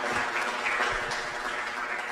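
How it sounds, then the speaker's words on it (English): An audience at an education networking event applauds its moderators and panelists, a dense, steady round of clapping that holds at an even level and stays clear of any talk. "A round of applause to our moderators and the panelists"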